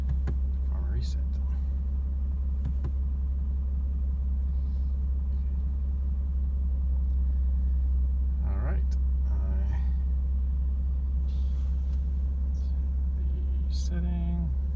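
A BMW M4 drives along with a deep, constant low-frequency cabin rumble, while a few faint clicks and brief sounds occur over it.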